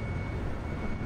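A jet flying in Battlefield 3 gives off a steady, dense engine roar with a constant low rumble and a faint high whine, loud and unbroken for about a second with no talking.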